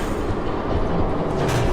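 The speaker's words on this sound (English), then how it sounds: "There's a train coming." A train passes in the Batman Telltale video game with a continuous rumbling roll of rail cars and faint squeal and clatter, loud and close throughout the short stretch, with no speech.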